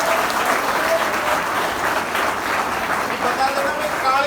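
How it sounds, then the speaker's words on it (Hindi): Loud, sustained applause from a college comedy show audience, steady dense clapping filling the whole stretch with a few voices faintly mixed in. "तो एक बार जोरदार ताली बजाओ"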